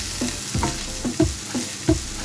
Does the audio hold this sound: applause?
no